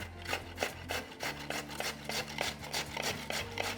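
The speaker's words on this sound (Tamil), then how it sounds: "நான் இந்த மாதிரி பெரிய ஹோல்ஸ் இருக்கிற கிரேட்டரில் தாங்க துருவுறேன் இப்போ துருவிக்கலாம்" Chayote being grated on a large-hole grater, a close rhythmic series of rough rasping strokes at a steady, even pace with no talk.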